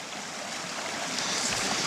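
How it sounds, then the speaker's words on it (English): Water rushing through a flooded creek, a steady broadband wash of flowing current that holds loud and even throughout, with no voices over it. "this is my flooded creek right here"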